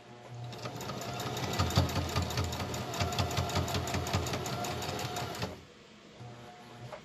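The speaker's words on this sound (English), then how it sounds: "I'm going to run another seam right back across." Sewing machine running a seam back across a fabric face mask, a steady rapid needle chatter lasting about five seconds before stopping abruptly, close and alone.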